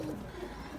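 Fantail pigeon hen cooing in a loft, a single soft, low, brief coo heard close by with no talk.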